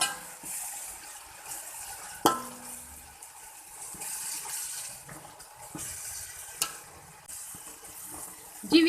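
Ginger and garlic cooking in a pan for rice pulao, a soft, uneven sizzle with occasional sharp clinks of a utensil against the pan, quiet and close.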